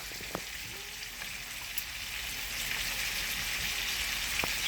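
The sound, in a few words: chicken pan frying in oil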